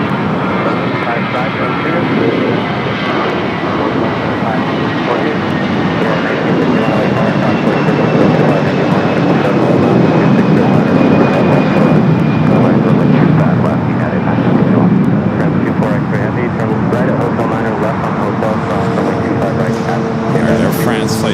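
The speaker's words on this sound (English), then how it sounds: "Air France Flight 24 touching down here" An Air France jet touching down at LAX, with a loud, sustained roar of engines and rushing air swelling through the middle and easing off toward the end. Radio chatter and talk run underneath.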